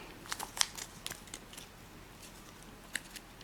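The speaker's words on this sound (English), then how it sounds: "we'll have to reverse fold right along this edge here. Just going to reverse fold." Paper is reverse folded for an origami baby dragon: soft, crisp crinkles and taps cluster in the first second, with another light crackle near the end, all quiet and close.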